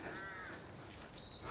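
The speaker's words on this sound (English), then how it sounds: "And we've got crows up in the trees up there." A crow caws in a short harsh burst, clear above a steady outdoor background in the Moffat Hills, then falls quiet.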